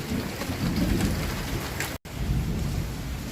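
Heavy rain pours steadily during a thunderstorm, dense and close, with low rolling thunder beneath the downpour and a brief cut in the sound midway; no one speaks.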